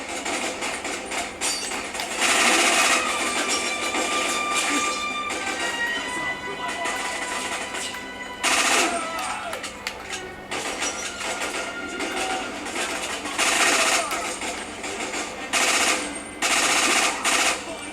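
Gunfire in the video game Quantum of Solace: repeated bursts of shots punctuating steady game background noise and engine-like hum, with people talking over the action.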